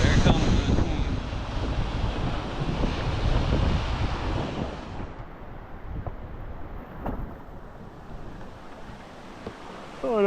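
Class IV white water rapids on the Rio Pacuare in Costa Rica roar loudly from a kayak, mixed with wind buffeting the microphone, then the rushing water fades to a quieter, calmer flow.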